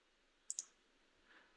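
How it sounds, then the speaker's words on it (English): Two quick, sharp mouse clicks land close together, quiet and isolated against a faint background hiss. "let's click on this analysis part"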